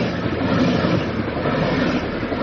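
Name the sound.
train running at speed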